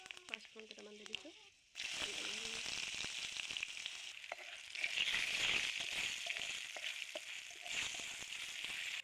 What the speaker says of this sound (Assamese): কেৰাহী তেল গৰম হোৱাত এতিয়া পাঁচফোৰণ কেইটামান দি দিছোঁ।